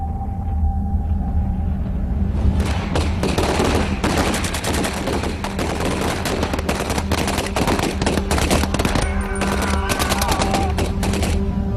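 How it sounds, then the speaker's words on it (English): Dense WW2 D-Day battle soundscape with rapid German machine gun fire, sustained bursts of gunshots crackling over a constant low rumble of combat, loud and close throughout. "he is himself struck down by shots from a German machine gun"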